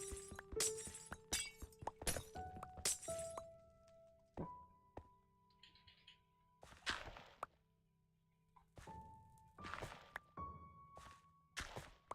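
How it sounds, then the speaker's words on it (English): Block breaking in Minecraft: a series of short, dry thunks and crunchy cracks in irregular bursts, some quick and clustered, others spaced apart, with steady tonal game background beneath and no talking. "I have to break this block as well"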